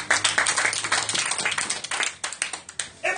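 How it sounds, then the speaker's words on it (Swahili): A church congregation clapping for the Lord during Bible study and prayer, a rhythmic run of sharp, close hand claps that rise and fall in bursts, with no talk. "Tupigie Bwana makofi makubwa"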